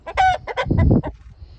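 Agitated roosters and hens clucking and crowing close by in bursts, loud and busy over about a second and a half, newly arrived birds settling in their coop.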